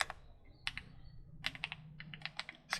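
Keys clack on a computer keyboard in quick, close bursts, a string of crisp taps that includes the press of the enter key, with no voices.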